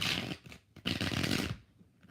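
Tarot cards being shuffled by hand in two quick riffling bursts, close and soft, with a short pause between them.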